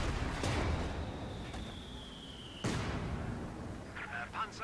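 A Panzerfaust fires in a World War II tank battle game, a sharp blast near the start followed by a second boom midway, amid steady background rumble and a faint tone.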